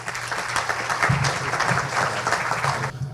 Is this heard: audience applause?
yes